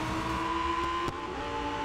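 A race car in Real Racing 3 holds full throttle, a steady, sustained engine whine at high revs with a brief click near the end.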